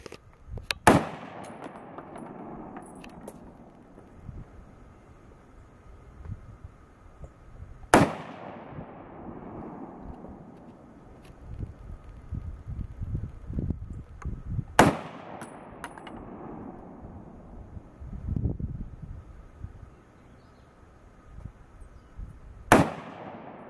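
Loud, sharp M1 Garand rifle shots fired outdoors at a target, four single cracks spaced several seconds apart, each with a long echoing decay over quiet background noise.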